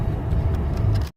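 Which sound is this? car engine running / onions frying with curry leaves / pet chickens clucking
car engine running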